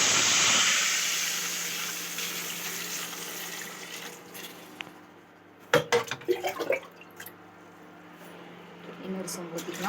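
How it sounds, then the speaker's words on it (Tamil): Two pitchers of water rush into a hot cooking pot with a loud hiss that quickly fades, followed by a few clattering knocks over a low hum. "2 சொம்பு தண்ணியை ஊற்றலாம்"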